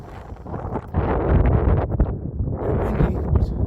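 Gusty wind buffets the microphone, a rumbling low roar that swells louder after the first second and keeps blustering throughout.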